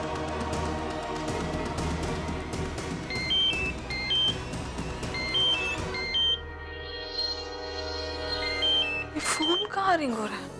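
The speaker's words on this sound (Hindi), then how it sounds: "फोन कहाँ रिंग हो रहा है?" A phone rings repeatedly with electronic chirping tones, hidden in a jacket inside a wardrobe, sounding over a soft musical background in a drama scene.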